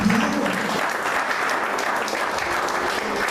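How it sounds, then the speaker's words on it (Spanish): A church congregation claps in a sustained, dense burst of applause that stays even and loud from start to finish, with a faint voice at the opening. "denle un fuerte aplauso al Señor, hermano."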